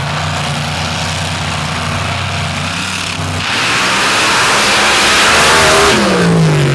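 Two rear-engine race machines running a paddle-track drag race in an open paddles and mod cuts championship final, with a loud continuous engine roar that rises in pitch and grows louder as they accelerate.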